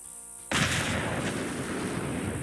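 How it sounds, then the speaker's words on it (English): A Nuka quantum grenade detonates in Fallout 4 with a sudden loud blast after half a second of quiet, then a long rumbling roar that fades only slightly. "Next, I'll try detonating it with a Nuka quantum grenade."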